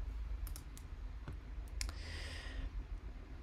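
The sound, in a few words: typing and clicking on a computer keyboard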